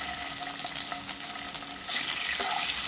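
Eggs frying in hot oil for a potato egg curry seasoned with chili, turmeric and salt, giving a steady loud sizzle with light stirring scrapes; the crackle swells sharply toward the end.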